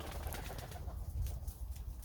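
A pigeon or dove coos softly outdoors beside a walnut tree, a low, muffled call sitting faintly within steady background noise.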